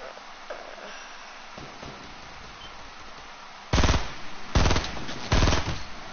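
Three loud, close bursts of rapid automatic gunfire from a PS4 shooter video game, each lasting about half a second to a second, following a stretch of quieter game ambience.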